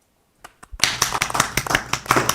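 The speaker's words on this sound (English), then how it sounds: "So, applause now." A small group claps for a birthday, starting with a few isolated claps and then a brief burst of close, steady applause.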